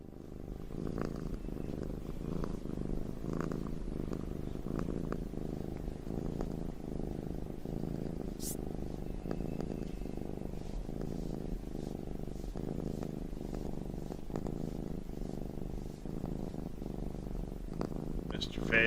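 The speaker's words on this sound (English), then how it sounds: "the purring cat" A cat purrs steadily close to the microphone, a continuous low rhythmic rumble of regular breaths that carries on for nearly twenty seconds.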